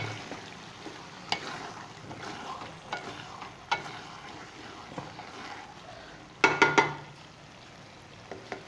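Spoon stirring pumpkin and chana dal in a pot, soft scraping and sizzling with intermittent clinks and a cluster of sharper metal knocks near the end, no talking.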